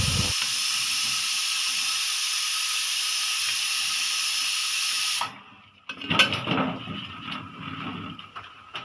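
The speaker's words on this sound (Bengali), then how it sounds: "প্রেশার কুকারে ডাল ডালটা আছে যে এই জন্য এখানে শীষ মারতেছে" A pressure cooker boiling dal lets out a loud, continuous hissing steam whistle for about five seconds, then it cuts off abruptly and gives way to clattering kitchen noises.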